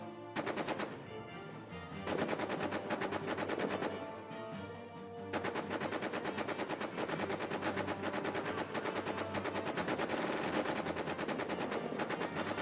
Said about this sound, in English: A lot of machine gun fire coming down.